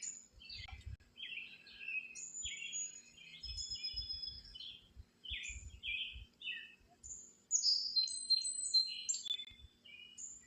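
Anhinga snake birds call in a park: many short high chirps and squeaky notes in scattered bursts, fairly faint and clear, with soft low thumps and rustles beneath.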